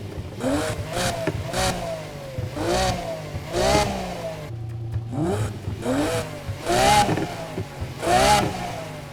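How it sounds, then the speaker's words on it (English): A Lamborghini V12 engine in the Need for Speed Heat racing game with a modified exhaust revs repeatedly, its pitch climbing and dropping in rising sweeps with a brief pause partway, loud and steady with no talk. "Let's see if we can really change the exhaust sound."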